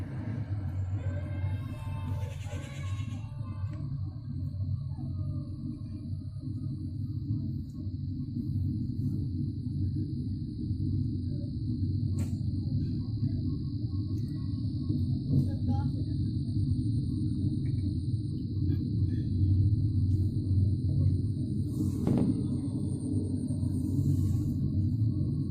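Malampuzha ropeway cable car humming with a steady low rumble as it starts moving again, continuous and fairly close, with faint voices and distant traffic underneath.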